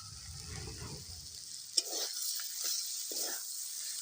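Ridge gourd, potato and stem vegetables sizzle softly in a pan after poppy seed paste goes in, with a sharp utensil clack and a few scraping stirs over a quiet frying hiss.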